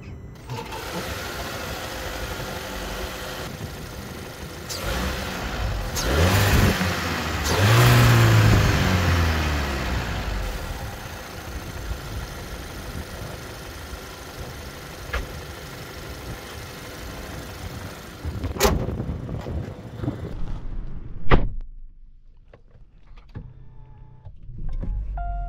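A Volkswagen 1.5 eTSI mild-hybrid four-cylinder petrol engine idles under the hood, its fine injector ticking and light clatter steady up close. It rises in one swelling rev partway through, then settles, with a sharp knock near the end.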